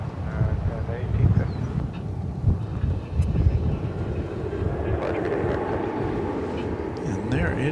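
An American airliner powers up for takeoff on runway 18 left at DFW Airport, a broad roaring engine rumble heard from a distance, building and shifting under wind buffeting the microphone, with a voice talking over it.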